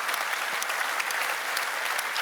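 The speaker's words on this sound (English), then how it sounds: "So, one round of applause." Audience applause at a manufacturing conference plenary session, a steady wash of many hands clapping close by with no voices over it.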